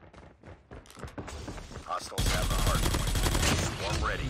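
Gunfire in Call of Duty on the map Rush: sharp shots pop in the first half, then a loud, sustained burst of automatic fire and clatter takes over and carries to the end.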